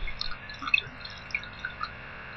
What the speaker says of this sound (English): to this pan, I'm going to add a little bit of water, so they have got some liquid to poach in.